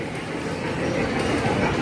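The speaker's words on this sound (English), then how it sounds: "You want to ride a train? You can ride a train." A train rolls past at a museum's train station, giving a steady, loud rumble with a faint rhythmic rail clatter throughout, close by and without a pause.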